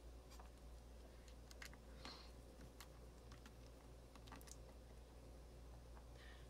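Faint, irregular clicking and ticking from a desktop computer running maintenance, scattered light taps over a low steady hum of background noise in a quiet room.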